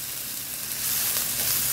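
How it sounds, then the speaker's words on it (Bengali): Paneer sizzles in a frying pan on a tawa, a steady close hiss of frying that grows slightly louder partway through, with no talk. "তাই একদম ফ্রাই প্যানেই করে নিচ্ছি, তাওয়াতে"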